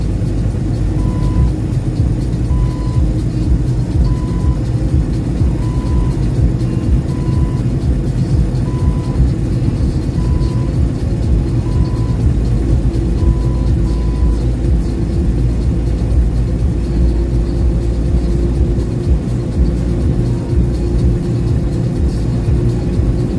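A 2020 Kenworth semi truck drives on a delivery run, its engine a steady, loud low drone with road rumble throughout and a faint repeating beep underneath, no talking.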